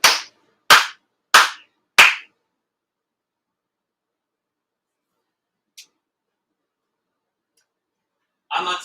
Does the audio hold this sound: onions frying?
no